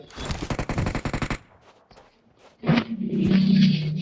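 Rapid automatic gunfire in a battle royale video game, a close burst of evenly spaced shots for over a second, followed by quieter clicks and then a louder rumble with more distant shots.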